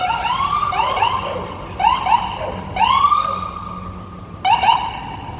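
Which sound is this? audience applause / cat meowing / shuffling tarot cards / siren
siren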